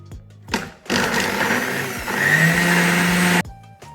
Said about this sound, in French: Là je vais tout mixer.